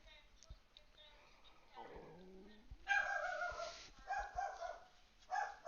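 A pet dog barks from upstairs at a window, a few sharp yaps and a whimpering whine at moderate distance, faint over quiet room noise.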